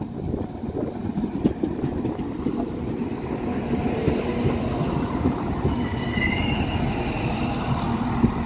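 An Irish Rail train arriving at a platform at Limerick Junction rumbles steadily close by, with rolling wheel noise and a faint high squeal of wheels toward the end, no voices.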